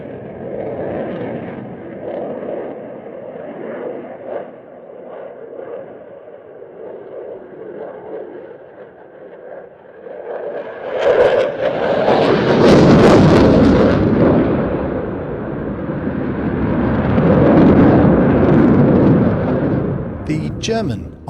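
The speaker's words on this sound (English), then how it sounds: "This year, for the first time, the RAF is displaying a Tranche 2 jet on the airshow circuit." An RAF Tranche 2 Typhoon-class jet displaying at the Roskilde airshow in Denmark swells into a loud, broadband roar partway through, rumbling and surging as it passes, with crowd noise and a hum underneath earlier.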